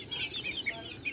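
Young pullet hens, around five to six months old, cluck in a short run of soft, repeated calls close by, with a faint background hum and no voices.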